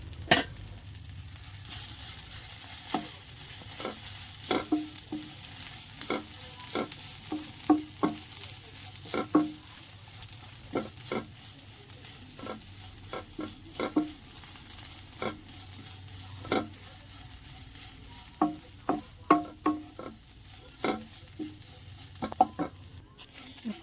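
Roasted masala being stirred into a prawn and coconut curry in a pan, with regular scraping spoon strokes and light taps over a soft background sizzle, close and moderately quiet.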